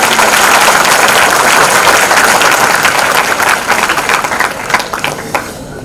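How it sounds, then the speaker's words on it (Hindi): Loud, sustained applause from a large audience for the poet Ramdas Athawale, dense clapping filling the space and tapering slightly near the end. "कवि रामदास अठावले जी के लिए जोरदार तालियां एक बार बजाएं।"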